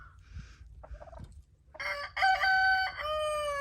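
An Ayam Cemani rooster on a free-ranging homestead gives a few soft clucks, then a loud, close crow that carries through to the end.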